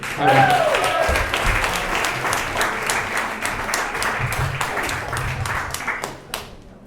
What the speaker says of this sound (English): So clap it up now for Marc Ragovin